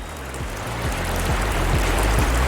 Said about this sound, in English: listening to the raindrops.